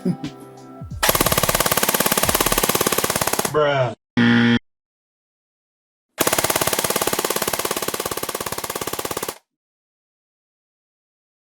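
A Secutor Aquila VII airsoft gun fires full auto in two long, loud, close bursts of rapid mechanical rattling, with a short clipped burst between them, a brief spoken remark near the start, and silence at the end.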